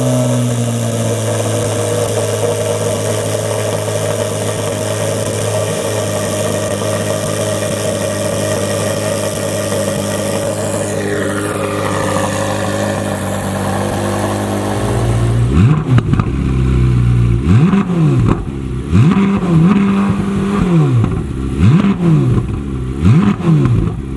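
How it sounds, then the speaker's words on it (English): A Corvette C8 Z06 flat-plane crank V8 idles loud and close at a steady, high-pitched hum, then is blipped through a series of sharp revs that rise and fall in quick succession. "I'll give you guys a startup just to barely hear what that sounds like."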